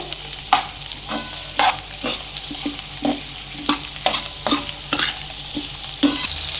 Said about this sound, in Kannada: ಕರ್ಬೇವಿನ ಸೊಪ್ಪು ಹಾಕ್ತಾಯಿದ್ದೀನಿ. ಇದನ್ನು ಚೆನ್ನಾಗಿ ಫ್ರೈ ಮಾಡ್ಕೊಳ್ಳೋಣ.